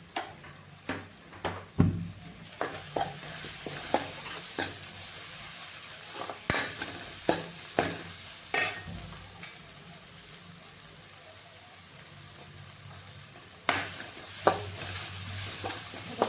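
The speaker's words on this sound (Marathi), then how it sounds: "हे अर्धा चमचा हळद टाकायचे आणि थोडासा गरम मसाला टाकून आपल्याला छान परतून घ्यायचे" Turmeric and garam masala sautéing in a pan for a village-style sprouted-pulse curry: a soft, low sizzle beneath intermittent sharp spoon taps and scrapes against the pan, with a quiet stretch midway, no talking.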